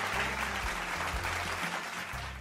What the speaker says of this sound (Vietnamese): Cho chúng ta dành một tràng vỗ tay cho mẹ Khánh được không ạ?